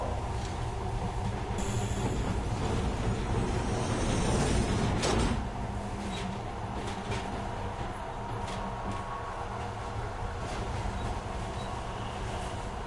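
Train on the secret Metro 2 line in a video game, a rumbling rolling clatter with a loud metallic swell and hiss around the middle, then a steadier lower rumble with scattered clanks.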